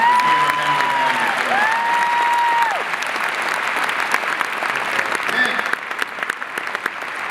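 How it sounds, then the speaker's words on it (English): Graduation audience at Stony Brook University's 2014 winter ceremony applauding troops overseas, broad sustained clapping filling a large hall, with faint tonal sounds in the first seconds. "Let's have a round of applause for them."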